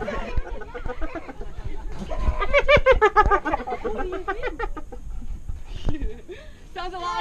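Hyenas give high, giggling whoops in a fast, chattering run while people speak nearby, up close and fairly loud.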